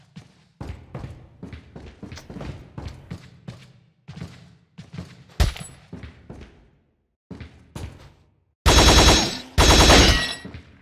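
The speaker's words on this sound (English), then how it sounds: "Oh, you just gotta shoot it a lot." Gunfire from shooting an enemy in Resident Evil 4: bursts of rapid, close shots in uneven clusters with short pauses, ending in a few much louder, heavier blasts; no talking.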